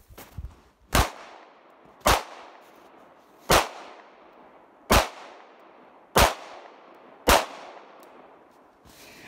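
Glock 19 pistol fired on an outdoor shooting range: six sharp, loud shots spaced about a second apart, each followed by a brief ringing decay.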